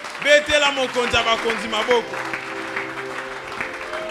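A church congregation applauds and cheers during a Sunday worship service, loud, dense clapping mixed with voices calling out, strongest at the start and then tapering slightly.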